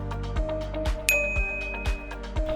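A single bright notification bell ding rings out once, clear and short with a lingering tone, over a steady rhythmic musical backing with regular low beats.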